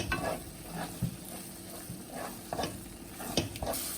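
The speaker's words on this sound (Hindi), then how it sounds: "इसी तरह चम्मच को हिलाते रहें और अच्छी तरह मिक्स कर लें। इसको अच्छी तरह से मसाले में भून लेना है।" Mutton brain being stirred and fried in masala with a spoon: a steady soft sizzle runs under repeated scraping strokes and light clinks of the spoon against the pan, close and continuous.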